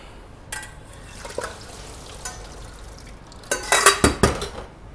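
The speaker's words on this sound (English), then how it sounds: "we're going to drain and serve some brown rice that I've pre-cooked here as well" Pre-cooked brown rice being drained and served in a kitchen: soft clinks early on, then a cluster of loud metallic pan and utensil clatters and scrapes near the end, with no talking.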